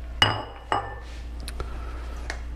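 Chopped tomato ketchup ingredients tipped into a cooking pot, giving two sharp clinks of utensil or glass against the pot followed by a few lighter taps, close and alone.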